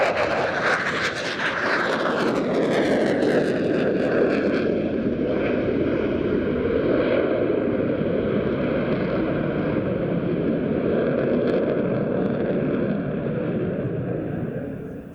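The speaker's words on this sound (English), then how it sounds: "Spain's C-16 Tifon performed a very energetic display of a rather different style to the other" A Spanish Air Force C-16 Eurofighter Typhoon jet roars loudly during an air show flying display, its engine noise sweeping past with a falling pitch before settling into a sustained, fading rumble.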